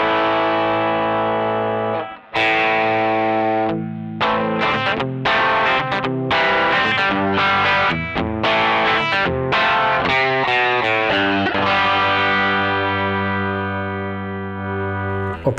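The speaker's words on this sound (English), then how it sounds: "I would use this 2-stage overdrive with the gain backed off as my principal low gain overdrive sound." An electric guitar through a Strymon Sunset two-stage overdrive with the gain backed off gives a low-gain, gritty tone. Sustained chords and melodic lines carry on continuously and loud for the whole stretch, with no talking.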